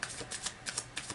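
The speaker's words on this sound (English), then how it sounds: "I do pre-shuffle the cards" Tarot cards being shuffled by hand, soft rapid riffling and papery slaps in a quick rhythm, close and quiet with no talking.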